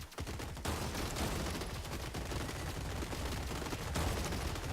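Bots trading gunfire in the strategy game Gladiabots, a dense continuous fusillade of rapid shots that keeps up loudly for the whole stretch with barely a break.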